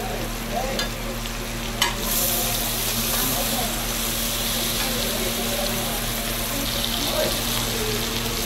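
Goat brain bheja fry cooks in a pan at a roadside dhaba kitchen, giving a steady, broadband sizzle with some stirring scrapes. The sizzle runs continuously throughout, with a low background hum and a few faint voices.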